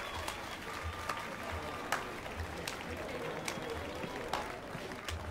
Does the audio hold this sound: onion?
no